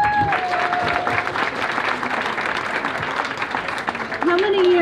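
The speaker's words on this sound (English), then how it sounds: "Give a round of applause." Outdoor crowd applause at a traditional Native American clothing contest during Santa Fe Indian Market, a dense, lively clapping that runs throughout, with scattered cheers and a whistle near the end and voices mixed in.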